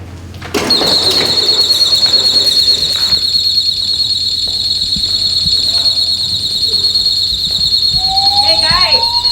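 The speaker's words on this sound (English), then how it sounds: "Hey guys, alarm, let's go." A school alarm sounds during a community emergency response exercise, switching on abruptly into a loud, continuous high-pitched electronic tone that persists throughout, with a voice briefly audible beneath it near the end.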